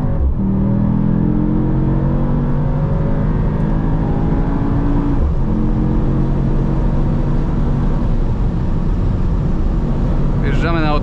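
A Mercedes-AMG GT63s E Performance rated at 843 hp accelerates hard on the autobahn, its loud engine roar rising steadily through the gears with a brief shift break midway, while a voice talks over it.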